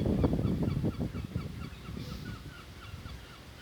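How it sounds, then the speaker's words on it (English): Distant seagulls call in a repeated chatter of honking, squawking cries, steady and moderately loud against an outdoor background, with no talking. "so some seagulls. They're in the distance"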